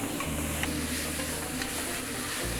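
Slow stirring of an Uzbek meat dish with tomatoes, spices and meat stock in a pan, heard as a steady sizzle and soft patter under a low, constant hiss.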